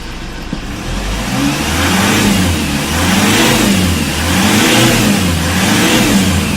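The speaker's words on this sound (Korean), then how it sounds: "엔진 사운드 아주 좋아요" A used car engine starts and runs close up, rising and falling in repeated revs over a steady low rumble.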